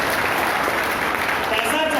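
A live audience at a motivational stage performance claps together, a dense steady wash of applause at full volume throughout the two seconds, with faint voices mixed in.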